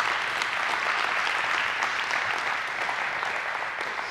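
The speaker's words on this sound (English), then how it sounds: "somebody give God a hand clap of praise right there" A congregation at a church service breaks into a hand clap of praise, with loud, dense applause sustained steadily throughout and no voice rising above it.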